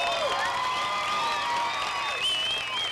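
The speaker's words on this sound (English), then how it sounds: "Ladies and gentlemen, a nice round of applause for Brian Carson." Crowd applause and cheering for a stuntman at a weekly racing night at Beech Ridge Motor Speedway, a steady wash of clapping with whoops and shrill whistles over it, sustained and fairly loud, with no talking.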